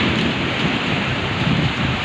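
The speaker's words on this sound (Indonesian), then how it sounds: "hujan angin" Heavy rain and strong wind lash the Subang area in Indonesia, a loud continuous roar of downpour with gusty rumbling, steady and close throughout.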